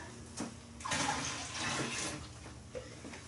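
Cold water running from a kitchen tap while home-brewing a pilsner lager, a faint splashing flow that swells and eases, with small clatters and knocks around it.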